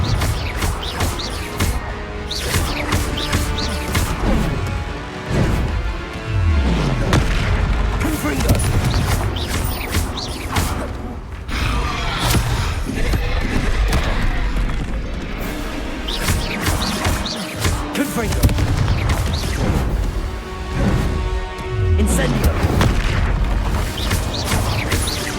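Fire-spell blasts from Hogwarts Legacy gameplay: repeated loud booming explosions and crackling bursts keep going over rumbling game action and a busy soundtrack, with a brief spoken spell cast among them.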